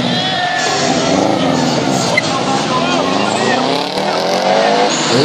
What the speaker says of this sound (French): Ce sont des voitures de slalom qui sont sur la piste en ce moment.